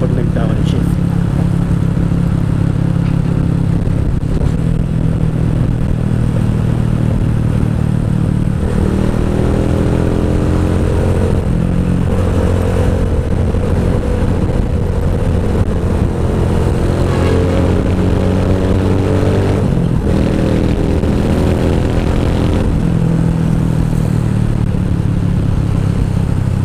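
A Keeway CR152 motorcycle fitted with a BR mini bottle pipe exhaust revs and downshifts up close, its loud throaty engine note rising and dropping in steps as the rider works through the gears, with a voice talking over it.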